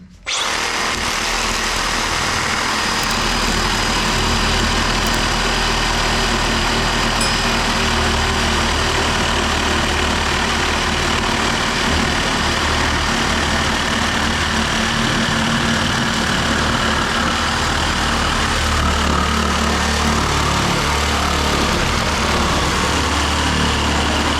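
A Makita DJR187 cordless 18V reciprocating saw cuts through 38 mm by 150 mm softwood in one long, loud, steady buzzing run that stays even from start to finish.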